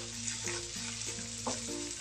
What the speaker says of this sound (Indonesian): Oke, pertama kita goreng dulu ikan terinya.